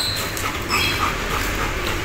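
A dog barks and yelps in an outdoor setting where a cow is also nearby, giving short sharp calls over a steady background hum at moderate distance.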